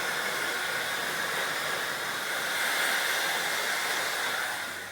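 A hair dryer blows on hair after a plant-based colour treatment, a steady airy hiss that swells slightly in the middle and fades at the end, with no one talking.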